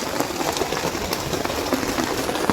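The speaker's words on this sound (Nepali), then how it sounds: "पुरा पानी परिरहेछ बाहिर" Heavy rain falls outside a forest cottage in Nepal, a dense, steady hiss of drops on surfaces, fairly loud and continuous with no talk.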